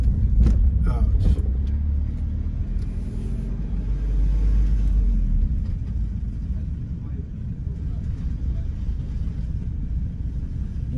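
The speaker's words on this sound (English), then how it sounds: "I hate driving over messed up streets" A car rolls at night over a scraped, rough city street in Philadelphia's Glenwood and Strawberry Mansion area, a steady low road rumble with a few bumps and knocks early on, close and continuous.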